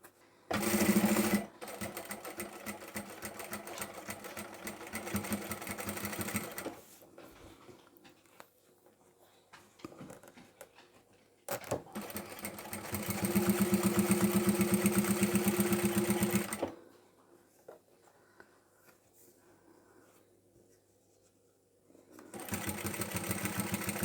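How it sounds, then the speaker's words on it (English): A sewing machine runs a narrow 3mm top stitch along a small zippered handbag with lining, in several long steady whirring bursts separated by quieter pauses, close and fairly loud. "I'm going to do a narrow 1/8 inch or 3mm top stitch."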